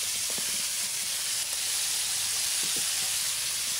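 Fish fries in a hot pan, a bright, steady sizzle and crackle close to the listener, with a few soft pops and no talking.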